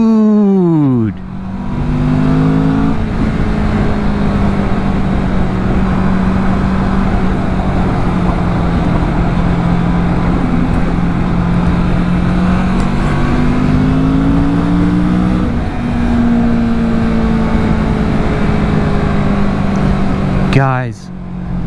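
A 2024 Kawasaki Vulcan S motorcycle engine running close by, with a steady idle broken by rising and falling revs at the start, midway and again at the end.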